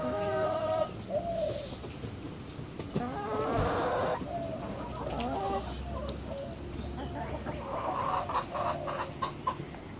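Chickens cluck and squawk in bursts while squabbling over pieces of pork, several birds close by with overlapping calls and scuffling, and a voice speaks briefly in the middle.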